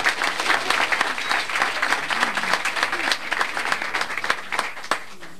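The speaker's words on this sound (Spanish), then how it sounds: "Por favor, un aplauso mientras imponemos las manos." An audience at a 1997 ceremony for the handover of a job-training centre applauds. Loud, dense clapping rolls on steadily for about five seconds, then thins out and fades at the end.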